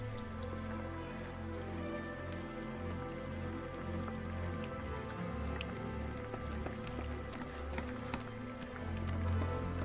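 Soft drizzle patters quietly in the video game Against the Storm, light scattered drops over a low steady hum of game ambience, faint and continuous throughout.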